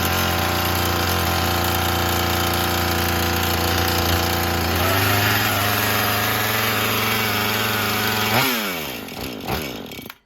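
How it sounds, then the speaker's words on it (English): A Husqvarna 435 X-Torq chainsaw engine idles with a steady, loud buzz and then sputters and winds down to a stop near the end, with no one talking. "When you don't have the high idle, it just dies"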